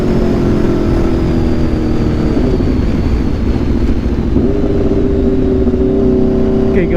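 Aprilia RSV4 motorcycle fitted with an SC-Project CRT exhaust riding on a rainy road, a steady loud engine drone that shifts pitch midway as revs change, continuous throughout with no talking.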